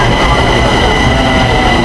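A metro train arriving at a station in Taiwan roars loudly and continuously close by, a dense rushing rumble of wheels on rails filling the short moment.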